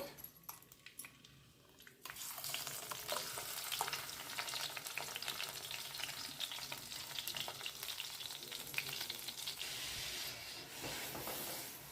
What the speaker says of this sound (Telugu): ఉల్లిపాయ ముద్ద బాగా వేగేంత వరకు వేయించుకుందామండి